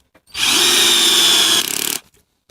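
A LYUWO 12V cordless screwdriver drives a screw into a dry birch block: a loud, close whirring motor burst of about a second and a half that stutters briefly just before stopping, with silence on either side.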